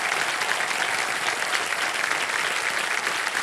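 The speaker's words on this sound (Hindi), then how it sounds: "जोरदार तालियां।" Studio audience on a television game show breaks into loud, sustained applause, a thick continuous wash of many clapping hands with no pauses.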